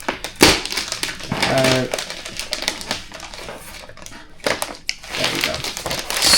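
A blade cuts and peels stickers off a cardboard shipping box for a MacBook Pro, giving sharp scraping bursts, crinkly tearing and a few clicks, close and uneven with pauses between strokes.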